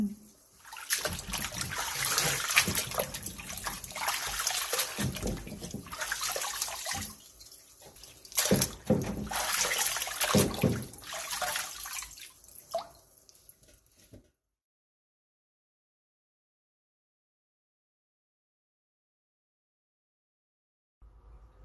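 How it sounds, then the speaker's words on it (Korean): Salted radish is rinsed by hand in a bowl of water for kimchi, with continuous splashing and sloshing for about fourteen seconds, then silence. "다 절여진 무는 한 번만 가볍게 씻어낸 뒤 물기를 충분히 빼놔주세요."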